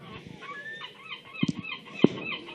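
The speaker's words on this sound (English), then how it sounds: "Joined in co-commentary by a seagull." A seagull calls near a Wales v Ireland women's match, giving a few harsh, honking cries over faint background crowd noise, with a louder squawk near the end.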